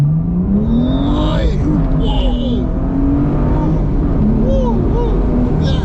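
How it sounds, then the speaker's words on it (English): A manual BMW M2 revs hard as it accelerates, with a loud, rising exhaust note that swells and falls several times. Its engine pitch climbs steadily under excited speech from occupants inside the car. "That exhaust is amazing"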